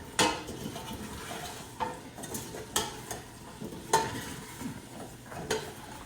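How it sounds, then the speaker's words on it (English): Onions and curry chicken stirred in a pan over a turned-up flame, with close spatula scrapes and clinks at irregular intervals over a steady frying sizzle. "Stir it out around."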